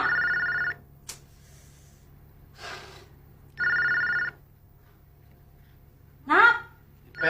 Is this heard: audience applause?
no